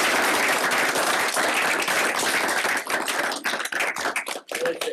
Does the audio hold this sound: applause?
yes